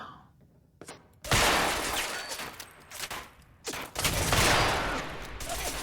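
Loud automatic gunfire in Fallout 4 rips through a wall in two long, dense bursts, the first after a short quiet stretch and the second following a brief pause.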